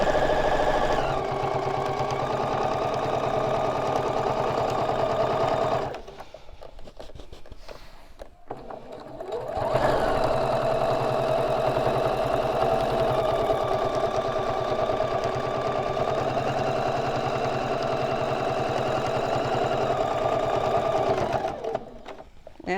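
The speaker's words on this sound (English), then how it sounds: "continue that perimeter sewing of my binding to my top" A sewing machine stitches binding around the perimeter of a quilt top, a steady close whirring hum of rapid needle strokes that stops for a few seconds midway, then resumes and runs on evenly.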